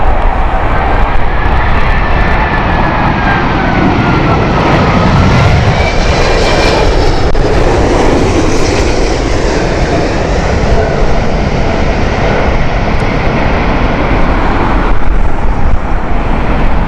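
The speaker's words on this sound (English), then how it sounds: "Seven-year-old A380 here from British Airways, King of the Skies here. Here is the Super Jumbo." British Airways Airbus A380 at Heathrow Airport on a windy morning, a loud sustained jet roar with a sweeping, shifting tone as the aircraft passes close by, continuous for the whole stretch without talk.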